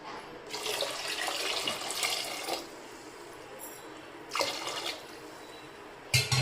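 Water pours into a pressure cooker holding soaked wheat in two separate bursts of close splashing flow with quiet gaps between them, plus a short knock at the end.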